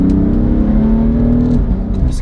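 A BMW M4 engine accelerating, a loud steady drone that rises slightly in pitch before easing off, with a voice speaking over it.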